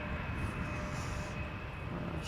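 Jet aircraft engine roar from a United Boeing 777 departing Schiphol Airport, a steady broadband rumble heard at a distance, sustained and even throughout with no voices.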